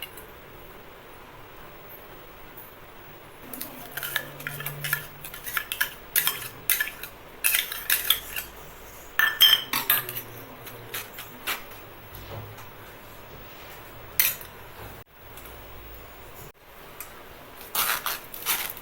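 Curd soaked with salt and ajwain being strained in a kitchen, with light clinks and scrapes of a spoon against a metal vessel coming in scattered, quiet bursts, no talking.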